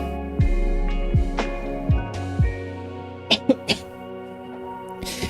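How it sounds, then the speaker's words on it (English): Several short, harsh coughs in a loose series, fairly close, with a couple of quicker bursts toward the end and a steady hum underneath. "Sorry about that. I had to cough again."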